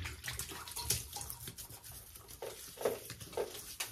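Water splashes and drips close by as hands wet the face at a bathroom sink before a wet shave, a series of uneven soft splashes and patters with no talking.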